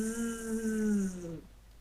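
A thin, steady buzzing drone like a mosquito hums for just over a second, then dips in pitch and cuts off into silence.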